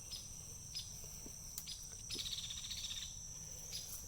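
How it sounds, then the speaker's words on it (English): In a forest, birds give repeated thin chirps and calls over a steady insect-like drone, faint and distant, with no voices. "And hear a bunch of birds."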